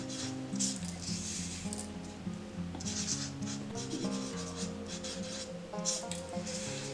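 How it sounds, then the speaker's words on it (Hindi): A pen scratches across paper in repeated short strokes, writing around the edges of a sheet, with steady background music playing underneath. "और इसे अच्छी तरह से चारों तरफ लिख दें।"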